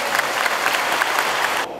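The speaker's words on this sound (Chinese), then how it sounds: "我们是不是给自己一个热烈的掌声？" Loud, dense applause from a crowd of volunteer police gathered in a gymnasium for a review ceremony, continuous clapping that cuts off abruptly at the end.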